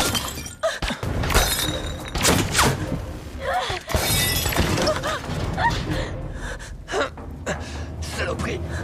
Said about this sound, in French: Frappe la montre!